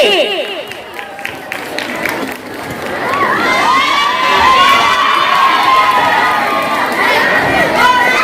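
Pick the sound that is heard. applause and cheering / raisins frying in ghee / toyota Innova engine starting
applause and cheering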